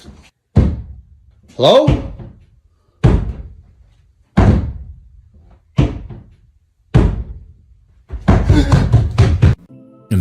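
Repeated heavy bangs from a basement door, about seven sharp thuds spaced roughly a second apart, growing into a rapid cluster near the end, loud and close, with a brief voice calling out at the start.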